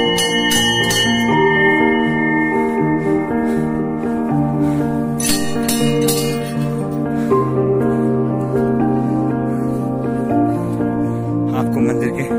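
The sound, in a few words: temple bell ringing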